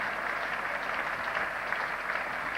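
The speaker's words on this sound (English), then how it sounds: "getting a big hand from another great crowd here at Lord's" A cricket crowd at Lord's during an England v Australia Test match applauding a batsman out for 175, steady sustained clapping from a large crowd heard from a distance.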